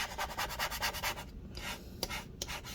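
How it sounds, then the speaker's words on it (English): A plastic razor blade scrapes sticky battery adhesive goop inside a 15-inch early 2013 MacBook Pro A1398, making close rhythmic rasping strokes that pause briefly before a few more scrapes. "I can now use this plastic razor blade to do this. It's nicer because it sits flat, but here you can see, you can scrape up this goop."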